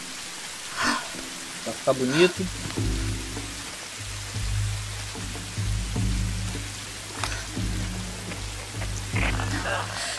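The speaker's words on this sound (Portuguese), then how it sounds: "Uma aguinha da chuva geladinha." Steady rain falling in the Tomb Raider video game, a continuous hiss under a low droning game ambience, with someone talking over it briefly.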